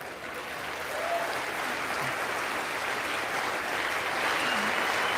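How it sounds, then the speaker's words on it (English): Congress applauding during a State of the Union speech, a dense sustained wash of clapping that swells after the first second and holds steady throughout. "They're going to stand up and clap."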